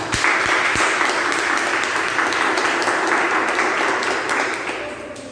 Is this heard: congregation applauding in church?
yes